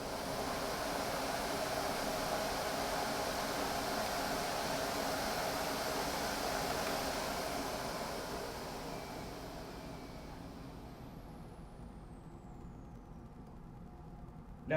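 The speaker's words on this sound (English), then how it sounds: "you might hear the HVAC in the background" A household HVAC system running steadily as a broad, even airy hum, heard at home with a central vacuum unit in the garage, fairly loud at first and easing slightly toward the end, with no talking.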